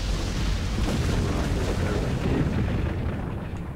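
A catapult firing and its projectile blowing up in Resident Evil 4, a continuous loud rumbling roar of explosion that fills the whole stretch and fades only slightly near the end, dense and close, with no talking over it.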